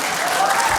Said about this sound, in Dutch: het is wel applaus, tuurlijk.